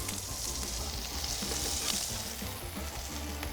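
Banh xeo crepe batter sizzles steadily and loudly in a hot pan over caramelizing onions, a dense continuous frying hiss with no talk.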